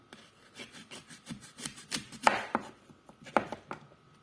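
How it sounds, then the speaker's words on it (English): A knife chopping through an apple on a board, a series of close, crisp irregular cuts with sharp thumps and a few louder strikes. "We now chop up the second one."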